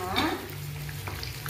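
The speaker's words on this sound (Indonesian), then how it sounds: "tips menggoreng ayam agar kita tidak kecipratan minyaknya" Chicken frying in hot oil with a steady, close sizzle throughout and a brief louder stirring burst near the start.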